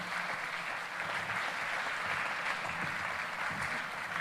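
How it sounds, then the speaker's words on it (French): An audience at a health conference applauds the guests, a steady, rather distant wash of clapping from a large room that continues evenly throughout. "merci à tous nos invités qu'on peut une nouvelle fois applaudir"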